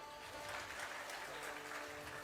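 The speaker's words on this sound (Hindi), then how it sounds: "ताली बजाइए।" A seated crowd at a religious discourse claps on cue, a soft, distant patter of applause with a voice faintly beneath it.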